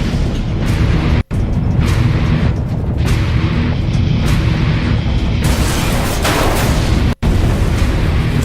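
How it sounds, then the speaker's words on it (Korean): A 250 kg bomb punches through five decks of a warship and explodes, giving a loud, sustained roar of blast and rumble that fills the whole stretch, broken by two brief dropouts. "250kg짜리 폭탄이 5층 갑판을 뚫고 들어가 엄청난 폭발을 일으켰다"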